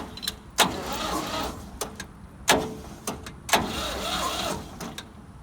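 Ford 2000 tractor engine cranking over through the solenoid in several separate bursts, each a short loud churning whir that stops without catching, close by with pauses between.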